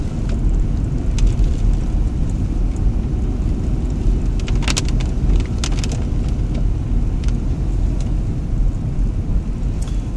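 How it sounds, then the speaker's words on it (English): Car on a one-way street slowing down and shifting back down to first gear, a loud, steady engine and road rumble from inside the cabin with a few faint clicks and knocks. "So again I'm slowing down, changing down, going back to first gear."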